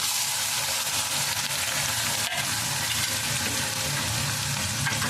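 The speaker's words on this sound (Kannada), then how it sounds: "ಉಳ್ಳಾಗಡ್ಡಿ ಹಾಕೊಂಡು ಸ್ವಲ್ಪ ಫ್ರೈ ಮಾಡ್ಬೇಕು ನೋಡಿರಿ ಫ್ರೆಂಡ್ಸ್" Chopped onions fry in hot oil with cumin, mustard seeds and curry leaves in a pan, giving a steady, dense sizzle that stays loud and constant throughout with no voice over it.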